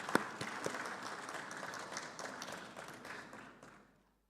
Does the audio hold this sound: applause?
yes